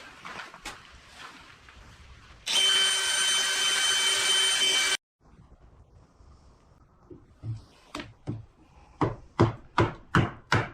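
A steady, loud power drill whine boring into wood runs for a couple of seconds, then stops; sharp knocks and taps follow in a quickening series.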